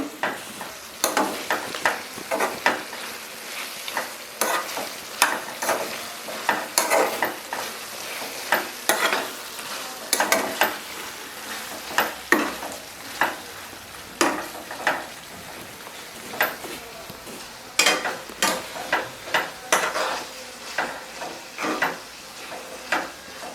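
Red chillies and country tomatoes cook down for a village-style stone-ground chutney, giving a continuous crackling sizzle with frequent quick scrapes and taps of a spoon against the pan, close and steady, with no voices.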